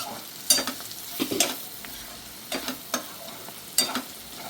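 Bitter gourd curry with sesame powder fries in a pan, a soft sizzle beneath several sharp spatula scrapes and stirs spaced irregularly, close and moderately loud, with no speech.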